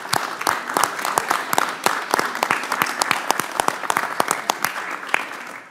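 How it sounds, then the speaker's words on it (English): Sustained applause from a room of people during a House Rules Committee hearing, with distinct individual claps crackling at a steady, fairly close level. "I think Adam deserves applause and recognition."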